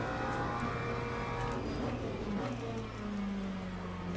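A race car engine in Le Mans Ultimate holds a steady, loud, buzzing drone, the pitch shifting gently as it revs and eases up through gears, continuous throughout with no talking.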